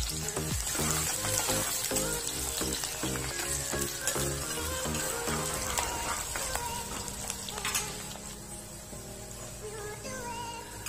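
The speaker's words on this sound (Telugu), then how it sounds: "ఆయిల్ వేడెక్కిన తర్వాత తరిగి పెట్టుకున్న ఉల్లిపాయ ముక్కలను వేసుకొని" Chopped onion pieces fry in hot oil for a bitter gourd fry, giving a dense close sizzle with spatter and light stirring clatter that continues steadily throughout, with no voices.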